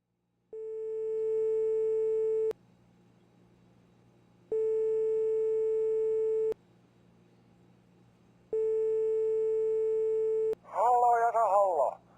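Telephone ringback tone while waiting for someone to answer, three long steady tones separated by pauses of quiet line hiss, followed by a voice picking up.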